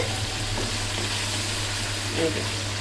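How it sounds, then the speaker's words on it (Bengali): Steady sizzling of meat frying over high heat in a pan for Afghani Kabuli pulao, with a low constant hum underneath and occasional faint clatters. "এটা এখন একদম ভাজা ভাজা হয়ে এসেছে"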